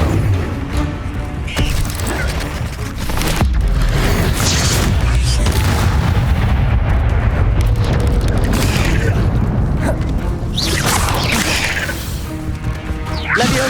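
A Levioso spell is cast in Hogwarts Legacy during a fight, with loud whooshing magic bursts, heavy booms and crashing impacts packed densely throughout.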